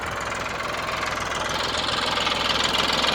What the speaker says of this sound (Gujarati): જોઈ લ્યો ટ્રેક્ટર આપણો આવે છે